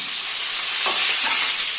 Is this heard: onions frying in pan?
yes